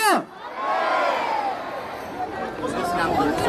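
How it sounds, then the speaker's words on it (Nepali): A large crowd at an Easter celebration in Thimi, Bhaktapur, Nepal cheers loudly, shouts and voices blending into a sustained roar that swells and holds. "हामी जोरदार तालीका साथ प्रभु येशू ख्रीष्टको जय गर्नेछौँ।"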